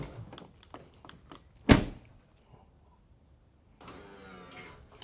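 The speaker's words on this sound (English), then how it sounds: "The boards move in and out really fast." Electric power running boards on a pickup truck cycle after their fuses are installed, a short whirring motor buzz from up close following a sharp door-like clunk, with quiet clicks around it and nobody speaking.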